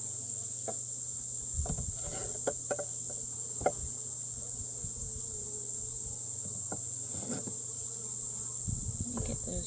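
Bees hum around an opened hive during an inspection, a steady low buzz with scattered sharper passes of individual insects flying close, faint and continuous.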